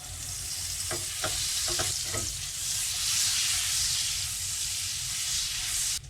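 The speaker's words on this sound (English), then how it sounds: "we're gonna pan fry this quickly, around 2-3 minutes" Beef heart and liver pan-frying in oil and butter, a loud, steady hiss and sizzle that runs the whole time, with a few brief knocks of a utensil near the start.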